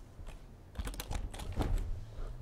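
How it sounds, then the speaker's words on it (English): Fingers typing on a computer keyboard, a brief burst of quick irregular clicks after a quiet start, close and clear with no talking. "So I can type in the text here if I want to."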